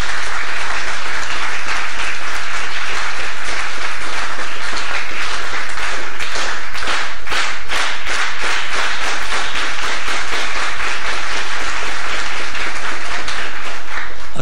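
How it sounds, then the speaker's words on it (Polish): Audience applause after a talk on life advice, a dense sustained clapping from a crowd lasting the whole stretch, loud and steady with no speech over it. "Rozumiem, że sobie klaszczecie,"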